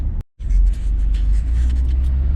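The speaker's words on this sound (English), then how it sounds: "The little turbo noises that it makes are louder than the Z." A truck engine runs loud and close with a steady low rumble, cutting out briefly near the start before resuming.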